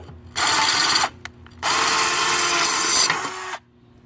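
A power drill fitted with a Black and Decker glass/tile bit bores into tile in two loud sustained bursts, about a second and then two seconds long, with a short pause between and a quiet stop at the end.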